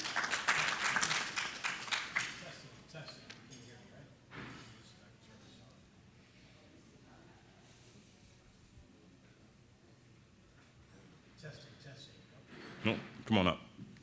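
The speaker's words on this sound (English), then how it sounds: "Let's give him a round of applause, please." Audience applause at a Somos Fall 2014 economic development event, a short loud burst of clapping that fades into quiet room noise with thuds and a later brief flurry of sound.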